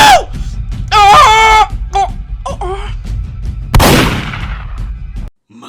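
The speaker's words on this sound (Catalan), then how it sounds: "M'acabes de disparar, oi?" A single sharp, bright gunshot blast rings out midway through a cartoon, loud and decaying quickly, with animated character voices shouting and talking before it.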